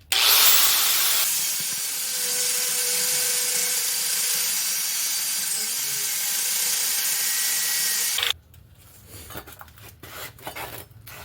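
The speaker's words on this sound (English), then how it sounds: "So let's cut off the workpiece from the stock." A forged steel workpiece for a split cross is cut off the stock, a loud, harsh, continuous grinding rasp lasting about eight seconds before it stops abruptly, leaving quieter workshop clatter.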